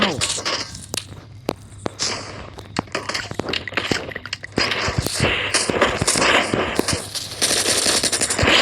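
Rapid automatic gunfire and single shots in a shooting video game crackle in dense bursts throughout, with a voice talking over parts of it.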